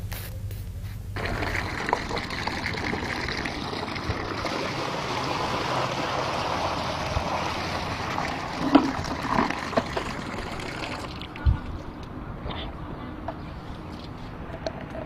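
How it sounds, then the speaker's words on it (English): Water poured steadily into a leaking bucket, a continuous splashing rush lasting over ten seconds, with a few small clunks before it tapers off near the end. "No matter how much water I pour into this bucket, no matter how long I wait, it will never get full."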